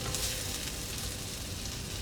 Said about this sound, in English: while this is all sizzling and hot